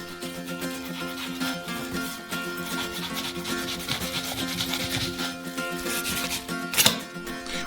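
A knife slices a fillet away from the skin, giving a continuous rough scraping and rubbing texture over steady background music, with a brief louder scrape near the end.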